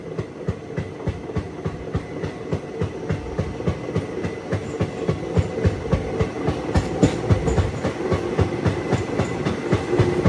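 A special train from Hyderabad to Arunachalam rolls through Bibi Nagar station without stopping, its wheels beating a steady, rapid clickety-clack over the rail joints with a low rumble, loud and close throughout.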